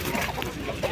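Chickens clucking at a busy outdoor poultry market in Fergana, short soft calls over a steady background of market bustle.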